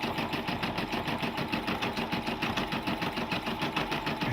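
A Brother PB6800 embroidery machine stitching a design, a fast, even, mechanical chatter running steadily and close throughout.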